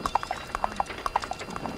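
A horse walking with a steady rhythmic clip-clop of hooves, moderately close and clear, with nothing masking it.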